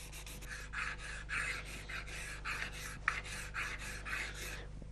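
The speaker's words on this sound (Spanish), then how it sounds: "Alternando la cuchilla y la lija, Ramón le va dando la forma cóncava en uno de sus extremos" Sandpaper and a scraper blade rub back and forth on an ebony violin part, shaping the concave end of a fingerboard, in a quiet luthier's workshop: a series of about a dozen close, rhythmic rasping strokes over a low hum.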